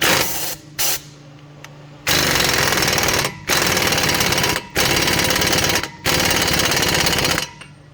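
An impact wrench tightens a 32mm six-point axle nut on a 2011 Toyota Sienna Limited AWD. It fires in several loud, close bursts of rapid hammering, separated by short pauses, with a couple of brief taps before the first long burst.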